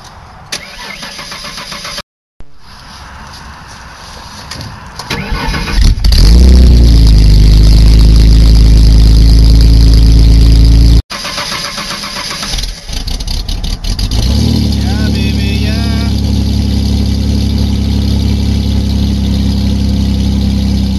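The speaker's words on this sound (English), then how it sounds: "so we're doing cold start" A Ford Taurus with a 3-liter engine, left sitting for a month or two, cold-starts after a cranking attempt and a pause, catches with a loud roar, settles into a steady idle, then cranks and restarts into a rough idle, close up.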